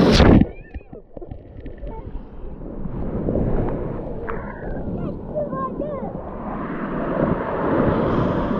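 Sea waves rolling in along a shore, a broad wash of water that swells and grows louder toward the end, after a short burst of voices at the start.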